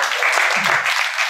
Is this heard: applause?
yes